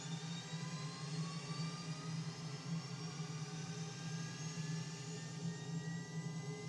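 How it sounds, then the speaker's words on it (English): An F/A-18C auxiliary power unit runs in Microsoft Flight Simulator, a steady low hum with a faint turbine whine slowly rising in pitch, quiet and constant, with no talking. "APU goes on."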